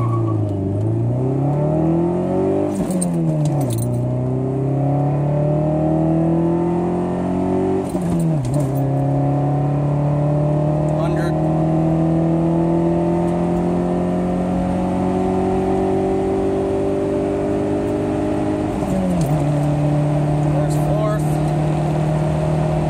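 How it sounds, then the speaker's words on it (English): A 2003 Dodge Neon pulls away from a standstill, its engine note climbing steadily through several gear shifts over about twenty seconds, loud and close with exhaust drone throughout. "Dodge Neon takeoff"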